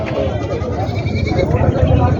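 Goats bleating at a rural goat market in Purna, Parbhani district, Maharashtra, heard under close, continuous conversation among people.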